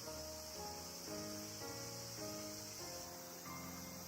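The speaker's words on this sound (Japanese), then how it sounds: "川に流れる水の音とセミの声。" Summer cicadas buzz in a steady high drone over flowing river water outside a Japanese ryokan surrounded by nature, with soft music tones changing beneath.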